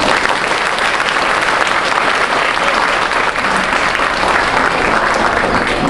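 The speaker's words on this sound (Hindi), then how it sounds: "ताली बजाओ उनके लिए भी।" A crowd applauding at a devotional mata ki chowki gathering in Mumbai, a loud, dense, unbroken wash of clapping that holds steady from start to finish.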